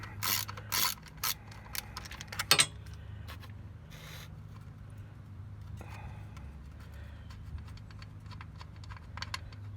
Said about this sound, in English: Just insert the 9mm, 10mm, whatever it is in there. And then unscrew it so it's all the way out.